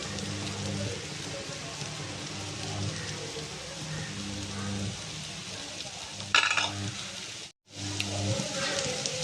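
Chicken masala, turmeric and chilli powder being stirred in a pan for an egg curry, a rain-like patter of frying under periodic low hums and scraping, with a short gap near the end.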